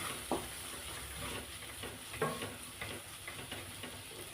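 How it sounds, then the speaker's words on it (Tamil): Eggs with capsicum frying in a pan while being stirred, with a steady close sizzle broken by a few sharp scraping strokes of the spatula; no voices. "இப்போ நான் அதில் ஒரு 2 முட்டையை ஊற்றிடுறேன். ஊற்றிட்டு நல்லா உடனே நல்லா கிண்டி விட்டுறணும்."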